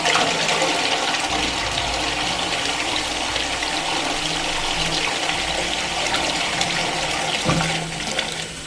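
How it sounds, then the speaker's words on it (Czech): Water rushes through a drain pipe during drain cleaning, a loud, continuous gushing flow that lasts for several seconds with a brief surge near the end. "A tady nám teče voda"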